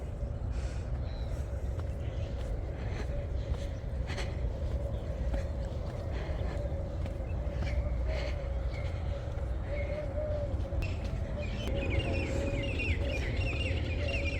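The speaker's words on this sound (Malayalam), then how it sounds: "കിളികളുടെ കളകളാരവം." Small birds chirp in scattered, faint calls during an early winter morning hike in Dubai, set against a steady outdoor background hum.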